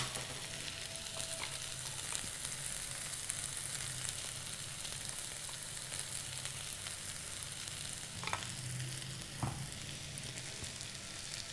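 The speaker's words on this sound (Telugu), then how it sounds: "ధనియాల పొడి కూరంతా బాగా కలిసేలాగా కలుపుకోవాలి" Potato and cabbage curry sizzles steadily in a pan as coriander powder is stirred through, with a few soft scraping knocks of the spoon near the end.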